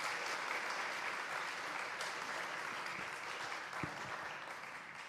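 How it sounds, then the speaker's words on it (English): Steady applause from a conference audience, dense and continuous clapping heard at a moderate distance, fading slightly toward the end. "Please give a round of applause."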